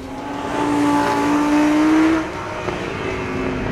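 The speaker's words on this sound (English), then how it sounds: "You get 602 horsepower from a huge great V10 engine" A Lamborghini Huracan's 602-horsepower V10 engine driven on a track, a loud, steady high-pitched engine drone with a rising tone that swells and then eases, close and sustained without talk.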